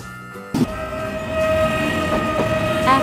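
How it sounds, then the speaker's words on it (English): Afrosiyob high-speed train from Uzbekistan passing close by, a sudden onset of rushing rail noise with a sustained horn-like tone building steadily louder over a few seconds. "Afrosiyob train is from Uzbekistan."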